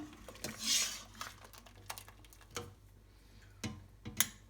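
A metal ladle scrapes and knocks against the bottom of a pot of harira soup with meat and chickpeas, giving several short, sharp clinks spread apart and heard up close with no talking.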